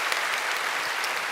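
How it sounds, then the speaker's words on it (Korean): A church congregation applauds newly baptized members during a Sunday worship service, a steady, dense wash of many hands clapping that holds evenly through the moment. "우리 인사하실 때 우리 박수로 축복해 주시기 바랍니다."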